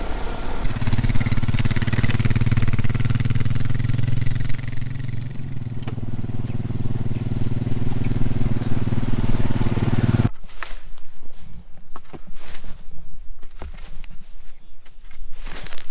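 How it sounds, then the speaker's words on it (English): A four-wheeler engine drones steadily and loudly while riding over garden beds, then gives way to rougher, scuffing, crunchy noise as it keeps moving, with no talk. "it would be a lot easier if we just rode on the four-wheeler"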